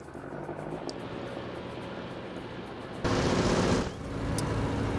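Video game gunfire during a supply base sabotage mission, a distant crackle of shots beneath steady ambient noise, swelling into a louder burst of sustained fire near the end.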